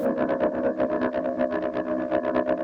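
Rhythmic synthesizer patch from the GR Mega with heavy modulation, pulsing in fast, steady repeated beats over a dense, distorted tone, loud and alone.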